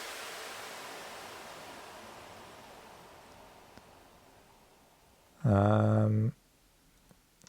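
A soft white-noise sweep in an Afro-style electronic music track gradually fades out, then a short, loud tonal burst cuts in before dropping back to near silence.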